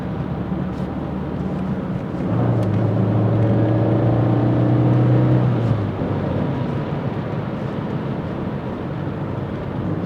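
An Opel Ascona car on a test drive, its engine running steadily from inside or close by and swelling as it accelerates midway before settling back to a cruising drone.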